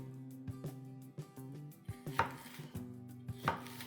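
A knife works inside orange and red bell peppers on a cutting board while cleaning them out, giving irregular soft cutting taps and scrapes spread across a few seconds, with a faint hum underneath.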